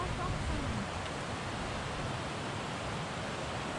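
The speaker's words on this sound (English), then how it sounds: "look at the water pour off of the edge of the snow into the creek" Snowmelt pours steadily off the edge of a snowbank into a mountain creek near alpine lakes, a constant broadband rushing wash close by with no break.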